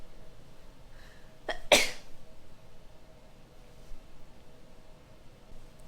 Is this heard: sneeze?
yes